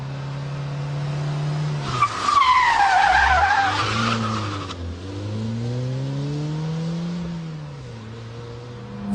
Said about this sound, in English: Swing the wheel, hit the handbrake, get the clutch, and power out